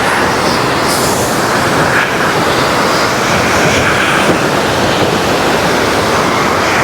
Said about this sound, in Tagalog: Ang lakas ng tubig. Lakas ng tubig sa baba.